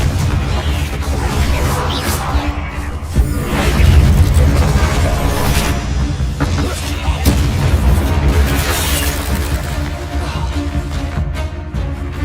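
Repeated Confringo blasting-spell explosions from the Hogwarts Legacy video game: loud booming bursts over a dense, continuous rumble of game effects that swells and stays heavy throughout.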